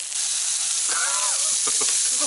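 Meat seared over a strong flame at an outdoor campsite gives a loud, steady, close hiss and sizzle throughout, with a brief voice in the middle.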